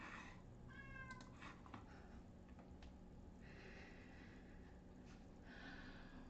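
A cat meows repeatedly, several short faint cries scattered across a quiet room with soft background hum.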